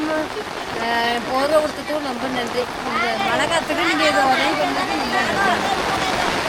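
Heavy, incessant rain pours down during an outdoor blanket handout to elderly people in the Netherlands, a constant wash of hiss and patter under people talking close by.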